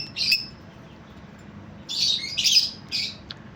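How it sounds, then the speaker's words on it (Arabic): Several squawking calls from Iraqi pigeons, one short burst then a quick cluster of three, fairly close over a low background hum. "هاي طيورة مالت الله عراقية ومنتجة"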